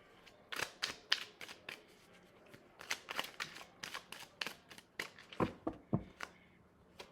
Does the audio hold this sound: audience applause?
no